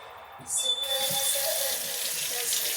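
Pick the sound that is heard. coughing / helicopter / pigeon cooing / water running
water running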